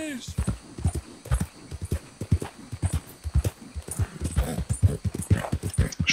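Horse hooves clip-clop in the Red Dead Redemption II online game, a steady rhythmic trot that runs the whole time beneath continuous talk, with faint game sounds mixed in.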